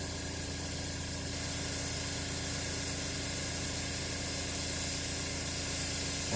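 Steady, close hiss of a spray gun laying light coats of red candy paint on a Suzuki Intruder motorcycle, continuous and loud with a faint underlying compressor rumble, no voices.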